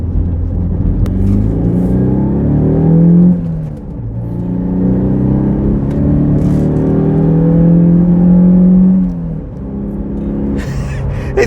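A Citroën C4 hatchback engine revs and accelerates repeatedly over broken-up ground, its pitch climbing and falling in loud sweeps, with a brief drop around the middle and a quieter tail at the end.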